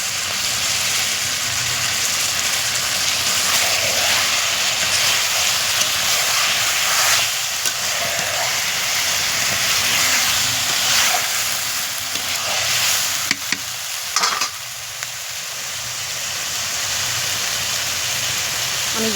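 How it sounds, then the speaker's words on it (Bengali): Potatoes go into a pan of well-browned chicken for a homestyle village meat curry, a continuous hissing sizzle with occasional stirring and scraping of a spoon, close and steady with no voices. "এবার আমি আলুগুলোকে দিয়ে দেবো।"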